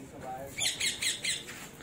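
A parrot calls outdoors during kite flying, letting out a run of four or five harsh, rapid squawks in quick succession, fairly close and clear above faint background noise.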